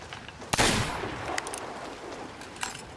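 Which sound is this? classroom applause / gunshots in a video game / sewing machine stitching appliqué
gunshots in a video game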